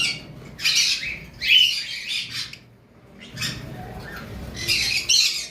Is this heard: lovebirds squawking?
yes